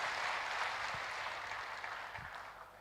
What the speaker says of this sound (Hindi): मैं उनके लिए जोरदार तालियां प्लीज़।